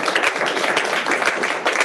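An audience applauds, dense steady clapping from many hands that holds at even loudness throughout a short burst.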